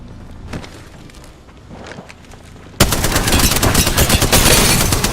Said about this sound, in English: Getting shot at. Eating lead.